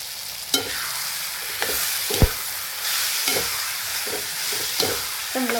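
Peeled brinjal pieces cooking in a ready masala in a pan, a continuous close frying hiss broken by regular spatula scrapes and taps.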